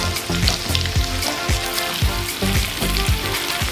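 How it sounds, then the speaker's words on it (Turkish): Carrots, onion, garlic and unpeeled potatoes sizzling in a pan as they are stirred together, loud steady frying with rhythmic scraping strokes up close, no talking. "Her şeyi birlikte karıştırıyorum."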